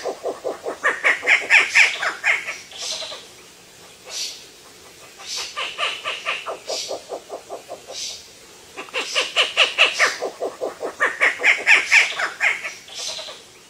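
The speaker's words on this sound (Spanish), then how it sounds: "La lechuza concón. Esta lechuza nocturna, también conocida como lechuza bataraza austral," Rufous-legged owl, a nocturnal southern owl, gives a call of rapid, rhythmic, chattering bursts, loud and close, repeated in several long phrases with brief gaps.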